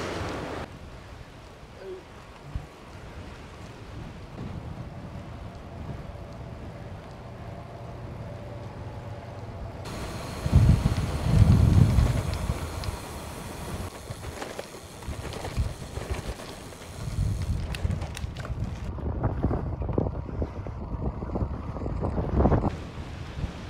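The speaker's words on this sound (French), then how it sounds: "Là, j'ai un petit vent de face là" Strong headwind buffets the microphone while cycling along canals and locks, a continuous roaring rush that swells in loud gusts midway and near the end, with no talk.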